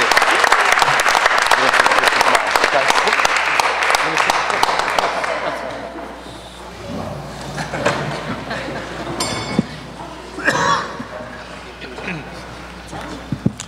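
Applause at a board of education meeting starts loud and dense, then fades after several seconds into scattered claps, shuffling and room noise, with some talk mixed in.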